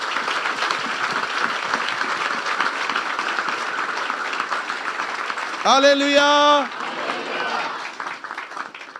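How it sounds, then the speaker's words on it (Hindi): Church congregation at a Christmas service applauding a group of visiting children, sustained dense clapping throughout with a brief spoken exclamation over it midway. "मैं चाहता हूं जोरदार तालियां इन बच्चों के लिए।"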